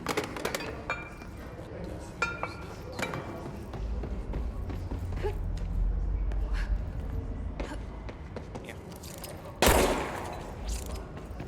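Shotgun fire in the video game Control: a few sharp gunshots spread across the clip, with one loud blast near the end, over a low rumbling game soundscape with clinking debris.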